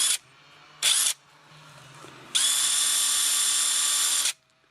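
An Onevan brushless cordless 20 V impact wrench, rated 1800 Nm, running in unfasten mode: two short whirring bursts, then a longer sustained high-pitched run of about two seconds before it stops.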